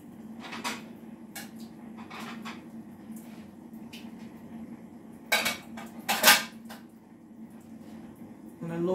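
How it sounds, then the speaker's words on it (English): Foil crinkles and a small ceramic saucer clinks as both are set over a jasmine rice pot on the stove, a few sharp clatters standing out over a low steady hum. "I don't have a lid small enough for this pot, so we're going to just put a foil over it."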